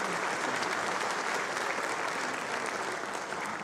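Dense, steady applause from a concert audience at a cultural center, loud and sustained throughout with no pauses or speech over it.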